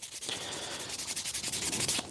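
A part clamped in a vise is sanded with steady back-and-forth strokes, a continuous abrasive rasp with a rhythmic pulse that stays close and fairly loud throughout.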